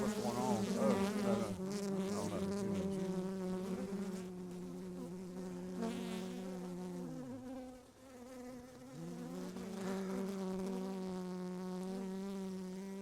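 Honey bees buzz around a beehive in an apiary, a steady, dense drone that holds for the whole stretch, wavering and dipping briefly midway as insects pass near and away.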